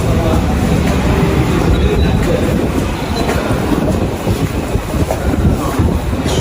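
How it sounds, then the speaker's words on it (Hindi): A train at a Berlin station rumbles loudly and continuously nearby, with rolling wheel noise and faint metallic clatter throughout. "गजुनब्रुन से मैं अभी यहाँ से ट्रेन पकड़ूँगा रिंगबॉर्न।"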